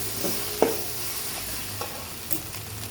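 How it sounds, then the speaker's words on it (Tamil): Five beaten eggs stirred and frying in a pan for kothu parotta, with soft scraping clinks of a spatula over a steady low sizzle, close and moderately quiet. "அப்படியே கிண்டிக்கிட்டே இருங்க. வதக்கிட்டே இருக்கணுங்க."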